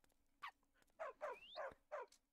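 Dog in the Minecraft modpack FTB Revelation giving five short barks and yips in an uneven rhythm, fairly close and alone.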